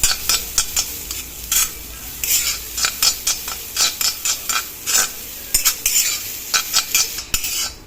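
Dry, rhythmic scraping of a spatula stirring grated coconut roasting without oil in a pan, with a soft sizzle underneath; close and repeated strokes.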